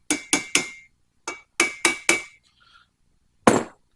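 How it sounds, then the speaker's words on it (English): A hammer taps valve spring retainers on an engine cylinder head, seven sharp metallic clinks in quick groups, then a faint tinkle and one last ringing strike, close and loud with no talk. "I like to give them a little tappy tap like that just to help break the tension on the tapers on the valve spring retainers."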